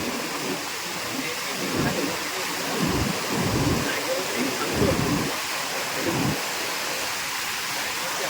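Steady roaring rush of falling water with heavy spray from a waterfall at Dhodani, broadband and continuous, with voices talking intermittently underneath.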